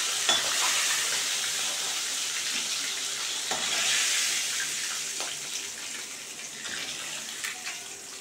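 Onion, green chili and garlic frying in a pan of hot oil for a silver carp fish dish, giving a steady close sizzle and hiss throughout with a few small crackles.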